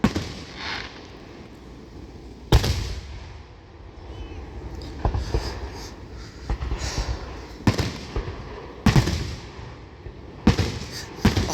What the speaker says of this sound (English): I love all fireworks, guys.